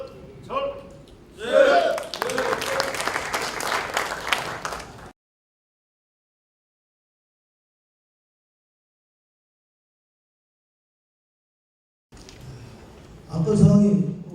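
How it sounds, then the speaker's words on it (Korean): Delegates at a union assembly give a delegate a burst of applause lasting a few seconds, framed by voices. A long silent gap follows before the talk resumes. "힘찬 박수 한번 주십시오"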